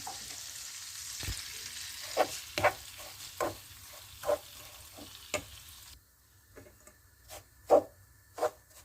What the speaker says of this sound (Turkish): Margarin eridikten sonra 1 su bardağı irmiğimizi ekleyip kavurmaya başlayalım.